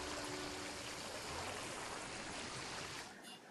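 Water flowing in a large river placed in a dinosaur-themed building video game, a steady broadband rushing stream heard alone and fairly loud throughout, easing slightly at the very end.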